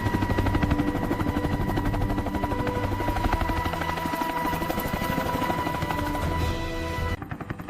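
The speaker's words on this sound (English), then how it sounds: "A CSAR mission is not just a helicopter flying in to pick someone up." A military helicopter flies in on a combat search and rescue mission, its rotor beating in a steady, loud, rapid rhythm throughout, with sharp rattling bursts that resemble gunfire mixed in.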